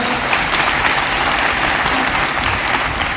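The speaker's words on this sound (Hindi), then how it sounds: "पहले 107 मेडल जीतने वाले खिलाड़ियों के लिए जोरदार तालियां।" Steady, loud applause from a crowd, a dense wash of clapping that continues without a break for the whole stretch.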